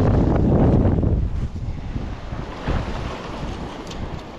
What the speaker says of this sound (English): Crosswind's coming over, but hopefully I can latch onto something.